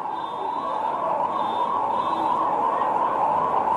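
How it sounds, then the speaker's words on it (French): Sirens wail continuously in the distance outside a football stadium during a World Cup qualifier, blended with a dense, roaring crowd-like wash of noise throughout. "Et on entend autour de la pelouse les sirènes"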